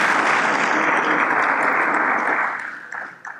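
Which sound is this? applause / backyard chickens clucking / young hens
applause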